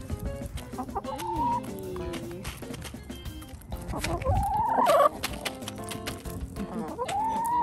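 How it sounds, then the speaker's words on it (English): Pet chickens cluck and call close by, with busy overlapping bird vocalizations throughout and some background sound beneath. "I never thought I would have chicken, but they are wonderful."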